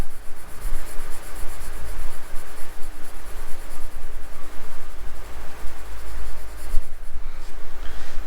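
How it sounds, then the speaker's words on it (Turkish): Pencil shading on paper for a tone bar, pressed harder to build a darker tone: steady close scratchy rubbing strokes running continuously and fairly loud, with no talk. "Bir sonraki kutucuğumuza kalemimizi bastırma şiddetimizi biraz daha arttırarak biraz daha koyu bir ton elde etmeye çalışıyorum."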